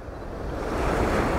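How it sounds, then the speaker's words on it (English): Ocean waves break against rocks at the water's edge in a brief, steady wash of surf that swells slightly louder toward the end, with wind noise and no voices. "the waves are coming in against these rocks"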